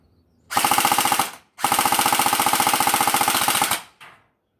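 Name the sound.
Alpha King AK 105 gel blaster firing fully automatic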